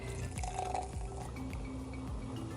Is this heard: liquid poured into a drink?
yes